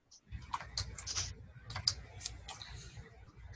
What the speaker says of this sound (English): So what I'm doing right now is I'm typing in my name and my email address and my phone number.